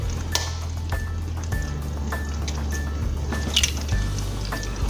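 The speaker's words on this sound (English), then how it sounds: "I'm going to crack this egg right into the skillet." An egg cracked into a hot skillet for a fried bologna sandwich, followed by a steady close sizzle with soft wet squishing and dripping, with no speech.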